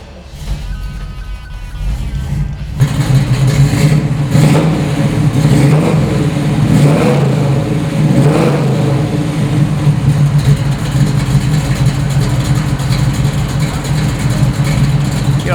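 A 1966 Chevrolet Nova SS engine cranks and fires after a brief quiet pause, then settles into a loud, rumbling idle with repeated throttle blips and revs close by.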